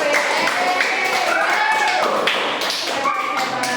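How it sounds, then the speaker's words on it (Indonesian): Children in a classroom clap their hands together, a loud, close run of quick claps mixed with young voices talking and calling out. "Tepuk tangan dulu untuk kalian semua"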